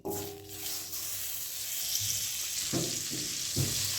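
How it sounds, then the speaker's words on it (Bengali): Butter melting in a hot wok, a large kadai on a gas flame, sizzles steadily and softly, with a few light clinks or stirring knocks toward the end; no one speaks. "কড়ার মধ্যে একটু বাটার দিয়ে দিচ্ছে"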